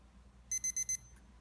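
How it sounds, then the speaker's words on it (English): Countdown timer alarm on a 3D printed kitchen console, sounding four quick, evenly spaced high electronic beeps, close and clear against a quiet room, followed by a faint click. "You can also use it as a countdown timer."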